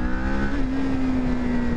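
Kawasaki Ninja 400 KRT 2023 motorcycle engine while riding, a steady close droning note that dips slightly in pitch early on, then holds evenly under constant wind and road rush, with no talking.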